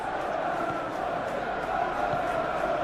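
Simulated football stadium crowd in a Premier League video game match, a steady, dense murmur and roar of spectators that stays constant and moderately loud throughout, with no commentary over it.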